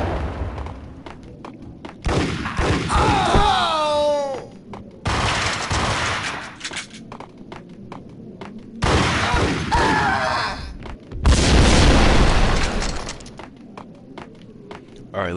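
Bursts of gunfire and explosions from the Max Payne shooting game, loud and dense, arriving in several heavy clusters with brief quieter gaps between them and no talking.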